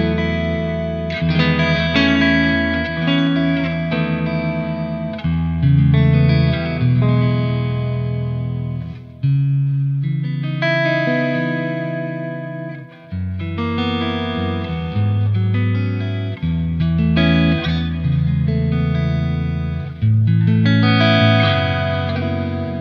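Electric guitar chords and single notes ring out through a Fractal processor and ZUTA LA25 MKII, sounding lush with reverb and delay trails, played alone in several sustained phrases.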